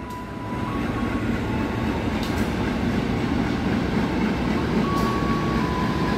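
Locomotives coming back from long-distance service roll steadily toward the Cipinang depot near Jakarta, a continuous loud rumble of engines and wheels with brief higher tones, no voices.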